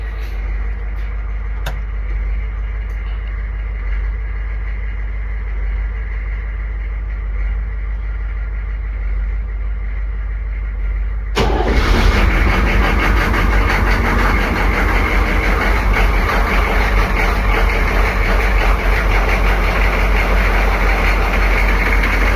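A military Humvee engine, quiet at first, starts partway through and settles into a loud, steady low rumble as it warms up.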